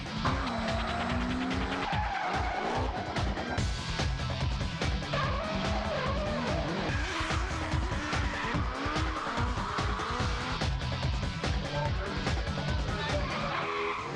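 Drift cars in the 2005 Drift Australia Championship top-16 round at Autobahn raceway skid continuously, with loud tire squeal and revving engines filling the whole stretch without pause.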